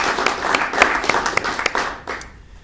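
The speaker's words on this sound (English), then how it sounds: "Well, let's give him a round of applause, too." Audience applause at a Nebraska bill-signing event, a short burst of clear, close clapping with distinct individual claps that quickly thins out and fades.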